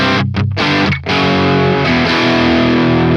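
Heavily distorted electric guitar through a bridge humbucker pickup and a Neural DSP Archetype Nolly amp, loud and dense with sustained chords and a couple of brief chugging stops near the start, alone without talk.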